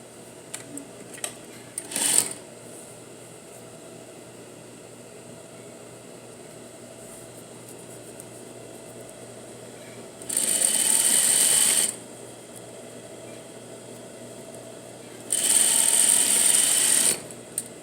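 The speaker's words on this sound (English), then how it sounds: "So I'm going to sew this one real quick." A sewing machine stitches the back of a pair of jeans with a double needle and two thread colours. It runs in two steady whirring bursts of about two seconds each, separated by quiet pauses.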